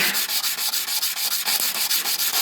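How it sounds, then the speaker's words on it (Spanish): A small hard mosaic piece is rubbed on its edge back and forth on sandpaper in a steady, quick rhythm of gritty scraping strokes, close and loud, with no talking. "Entonces se ponen de canto sobre la lija y comienzan a moverla"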